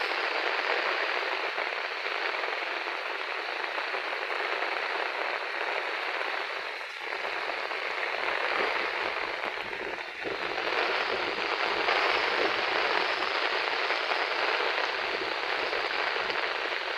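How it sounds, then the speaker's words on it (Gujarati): Very heavy rain pours down steadily in Keshod taluka, Junagadh district, a dense, loud, unbroken hiss of downpour drumming on surfaces, close and constant throughout with no voices. "બહુ એટલે બહુ વરસાદ છે"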